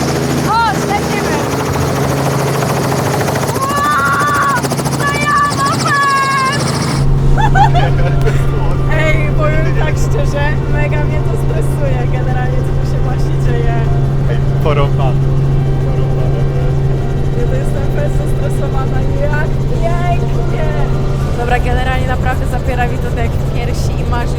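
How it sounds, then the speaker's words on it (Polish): A helicopter flies over Barcelona, its engine and rotor drone steady and loud throughout, with excited voices talking over it inside the cabin. "Lecimy helikopterem nad Barceloną!"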